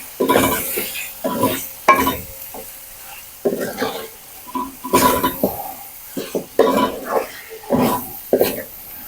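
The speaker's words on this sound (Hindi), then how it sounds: "ये सारे मसाला जात अब हम अच्छी तरह भूनेंगे।" Cumin powder, garam masala, chilli, salt and dry coriander roasting in a pan for gobi gosht, with loud close bursts of sizzling and stirring scrapes coming in irregular waves.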